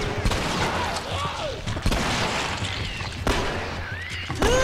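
Sharp gunshots ring out amid tense combat in The Last of Us, several distinct loud cracks spaced a second or so apart over a murky background.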